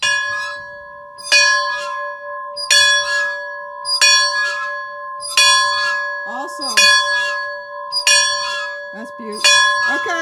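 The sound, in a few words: original church bell ringing in a 1909 church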